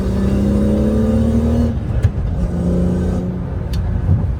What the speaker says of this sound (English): huge sound change from open to closed with the Valvetronic Section 3